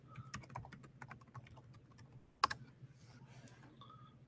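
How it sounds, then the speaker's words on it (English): Soft, quick keystrokes tap on a computer keyboard, faint and close, with one sharper clack midway and a few scattered presses after. "you're going to type in drive.google.com into the Omnibox"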